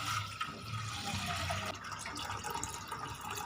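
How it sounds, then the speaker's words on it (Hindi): Water poured into a saucepan in a home kitchen: a fairly faint splashing trickle that fills steadily for a few seconds, heard alone without talk. "अब हम लेंगे एक सॉस पैन और उसमें ऐड करेंगे थोड़ा सा पानी"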